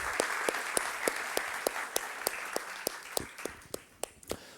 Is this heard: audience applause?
yes